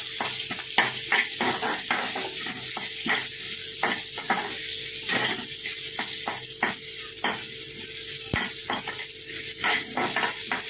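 Small onions sizzling in a hot pan with repeated scraping stirs at an irregular rhythm, close up, no voices.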